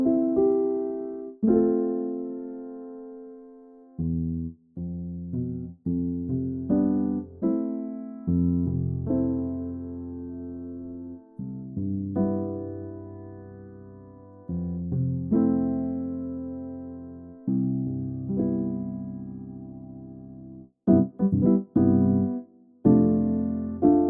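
A felt piano sample from Kontakt Player plays an Animal Crossing remix, a gentle melody of soft, muted notes and chords with short sustains and steady phrasing, alone without any talk.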